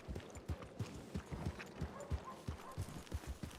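Horse hooves clip-clop in a steady, quick rhythm on a hard surface, close by and continuous throughout.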